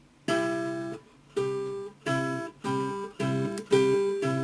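A guitar plays a wide chromatic chord, finger-plucked with the second-highest note loudest, struck six times in a slow, even rhythm with short gaps between strikes; close and clear, no talking.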